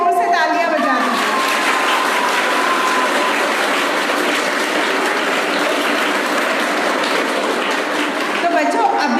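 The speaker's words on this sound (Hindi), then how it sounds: "तो एक बार अपने लिए जोर से तालियां बजा दीजिए" Energetic children in a classroom clapping loudly for themselves, a dense, steady burst of applause filling the whole stretch with scattered voices underneath.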